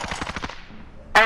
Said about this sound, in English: Friendly sentry gun online.